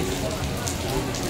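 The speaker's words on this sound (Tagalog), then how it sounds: "Lakas ng ulan guys." Heavy rain pours steadily at a New Year's Eve gathering, a dense, continuous hiss with no break across the moment.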